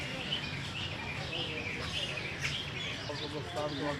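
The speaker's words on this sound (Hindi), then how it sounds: "ओए चिड़िया है गाइस, बिल्कुल मस्त पास है।" Small birds chirp and tweet close by in a busy outdoor setting at Lahore Zoo, their calls mixed with steady background chatter and ambient noise.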